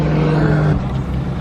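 A white Stirling Moss hypercar approaches on a closed road, its engine a steady, loud hum with a sustained tone that shifts lower as it draws near, heard alone.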